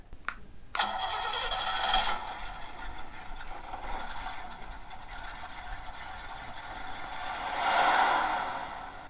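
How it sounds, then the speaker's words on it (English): A small electronic sound effect from an ECTO-1 Brickstuff light kit plays an engine start, a couple of clicks followed by a sustained cranking and revving roar that swells near the end, heard close up through a tiny speaker. "It starts the engine."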